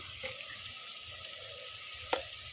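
Onion, ginger and garlic sizzle in oil in a clay pot, a quiet steady frying hiss with an occasional soft clink or stir.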